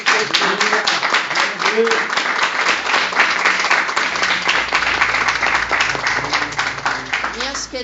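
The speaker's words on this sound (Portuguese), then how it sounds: "As palmas bem alegres para o Rei" A congregation applauds steadily and cheerfully during a religious radio program, with dense rhythmic clapping throughout and a voice speaking over it.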